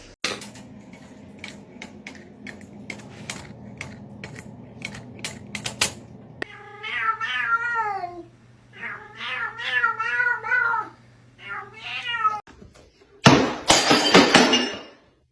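Cats meow loudly several times in a row, some drawn out into wailing cries, after a stretch of sharp taps and clinks, and a harsh noisy burst closes the sequence.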